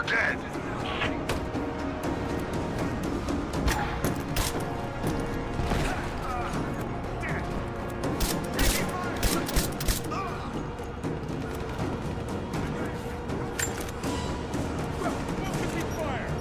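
Gunfire in the video game Rise of the Tomb Raider, with sharp shots scattered over a busy combat soundscape while characters talk.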